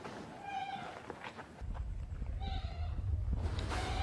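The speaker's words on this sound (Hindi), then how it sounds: "इधर ना सिर्फ बकरी की आवाज़ आ रही थी" A goat bleats several times, wavering cries at moderate distance, over rumbling wind noise and light rustling.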